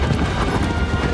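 Horse galloping in the video game Shadow of the Colossus, a loud, dense run of hoofbeats thudding steadily for about a second with no talk.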